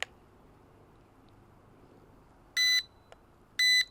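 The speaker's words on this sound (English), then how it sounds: "And now I'm in headless mode, and it beeps annoyingly." A Syma X22 drone's remote controller emits two short, sharp electronic beeps about a second apart in headless mode, alone in a quiet room after a faint click.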